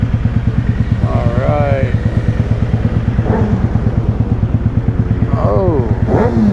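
A motorcycle idles with a loud, steady thumping beat, then pulls off in first gear, its engine pitch rising in short revving sweeps. A rider speaks briefly over the engine.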